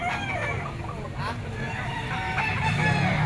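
Several roosters of the Golden Boy Sweater gamecock bloodline crow and cluck at a pet market, overlapping calls near and farther off, with people talking in the background.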